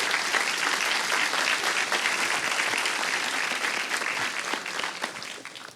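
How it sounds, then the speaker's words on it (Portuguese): Church congregation applauding in praise to God during a sermon on love and family, a dense, sustained wash of many hands clapping at steady loudness for the whole stretch, fading slightly toward the end. "Vamos dar uma salva de palmas a Deus."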